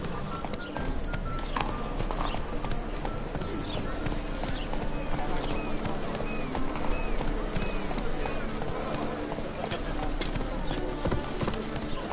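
Horse hooves galloping in The Witcher 3, a steady fast clip-clop of a ridden horse close by running continuously over ambient outdoor sound, with occasional birds and some overlapping talk.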